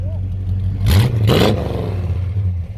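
A 350 crate motor with Magnaflow exhaust in a Chevrolet 150 idling close by with a deep steady rumble, then revving up twice in quick succession before settling back to idle.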